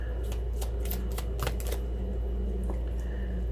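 Tarot cards being shuffled by hand, giving a run of quick papery riffles and soft flicks in irregular bursts over a steady low background hum, close and fairly quiet.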